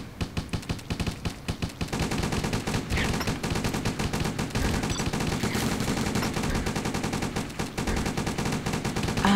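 Gunfire from towers in a tower defence video game: dense rapid machine-gun bursts and overlapping shots, steady and loud, running without pause and with no voices.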